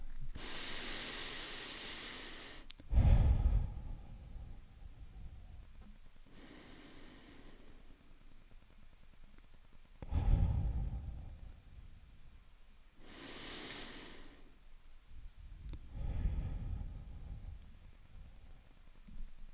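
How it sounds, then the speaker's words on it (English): Slow, deep breaths taken one after another, each a long airy inhale followed by a heavy exhale, close and fairly quiet, repeating about three times with pauses between and no talking. "I can do a couple of deep breaths."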